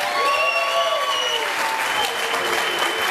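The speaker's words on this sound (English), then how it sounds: "Well, let's give her a round of applause." Audience applause at a kraut eating contest, a steady, dense wash of clapping from a crowd that holds at full strength for the whole stretch, with faint voices mixed in underneath.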